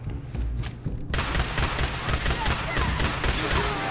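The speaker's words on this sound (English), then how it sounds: "I might use a laser pistol for this part" Laser pistol fire in Fallout 4 bursts in loudly after a short quieter lead-in, then becomes a dense, continuous barrage of shots and impacts that fills the rest of the moment.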